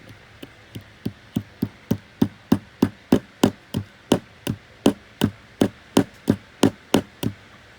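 A hammer drives nails in a cramped, tight spot, a steady run of about twenty evenly spaced sharp knocks, close and loud with no talking.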